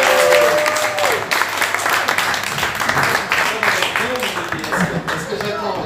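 Applause breaks out at an annual cheque presentation ceremony as a recipient from Bourgogne-Franche-Comté is honoured, a steady clapping that runs throughout while voices talk over it.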